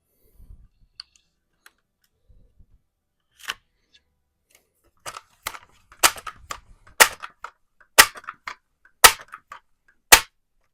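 A multi-pump .177 air rifle, an original Barra 1866, plinking at targets in a garage: sharp isolated shots, a few quiet ones then several louder cracks about a second apart, each with a brief metallic ring, no talk.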